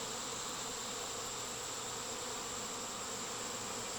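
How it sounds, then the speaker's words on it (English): A fall honeybee swarm clustered in balls on the ground gives off a steady, dense buzzing hum, faint and continuous with no pauses or voices. "There's two balls of bees down here on the ground."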